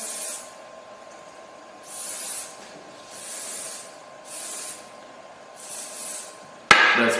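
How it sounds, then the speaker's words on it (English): Short hisses of scanning spray coat a part being prepared for 3D scanning, five roughly evenly spaced bursts of about a second each, close and fairly loud, ending with a sharp knock. "I will spray it from this side again."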